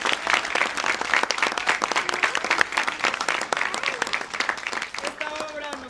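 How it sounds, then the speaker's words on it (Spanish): Strong applause from the audience after a Sikuri theatre performance, a dense, sustained roar of clapping kept up throughout, with a voice talking briefly over it near the end. "Y un fuerte aplauso, por favor, para todos mis compañeros también"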